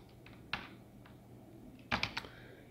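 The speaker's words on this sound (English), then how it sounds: "So print, and then we're going to type hello world." Keystrokes on a computer keyboard while entering code, a few sparse, fairly faint clicks with a short burst of quicker taps near the end, over a quiet background hum.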